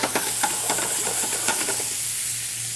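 Chicken breasts sizzle in olive oil in a pan and are tossed about. A steady, loud frying hiss runs throughout, broken by several sharp scraping and clattering bursts as the pieces are stirred, with no talking.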